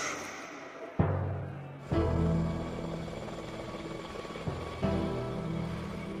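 A helicopter leaves a remote mountain landing site, its loud rotor roar filling the air with sudden gusting surges and thumps as it lifts off and flies away, with no voices.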